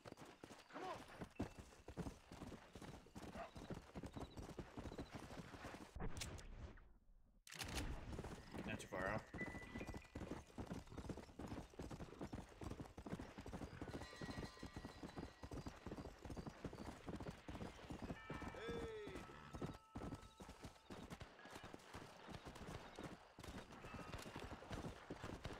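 Rapid, steady clip-clop of horse hooves in the Red Dead Redemption video game, continuous and close, with a brief pause partway, faint game sounds and occasional talk beneath.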